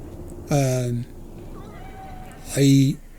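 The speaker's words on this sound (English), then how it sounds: "I see a cat." Two clear, loud meows from a cat in the video game Cyberpunk 2077, separated by a quiet gap with soft background game ambience.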